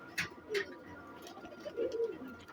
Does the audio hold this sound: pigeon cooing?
yes